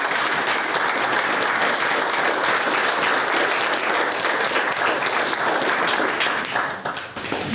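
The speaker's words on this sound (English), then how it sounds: "So we just give a round of applause for our staff." An audience at an open house for a Newport mental health urgent care gives the staff a loud, sustained round of applause, with dense clapping that holds steady for several seconds before thinning slightly at the end.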